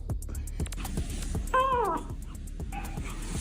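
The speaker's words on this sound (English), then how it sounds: "Oh, I hear a cat." A single nearby cat lets out a clear, drawn-out meow that rises and falls, followed by a shorter, fainter meow, over low background noise and occasional clicks.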